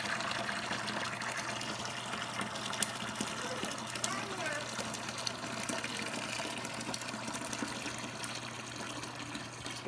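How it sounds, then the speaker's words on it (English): Rosé grape juice concentrate is poured slowly into a wine fermenter, giving a steady, faint liquid trickle and splash that runs continuously at close range. "now we're gonna start pouring it in here slowly"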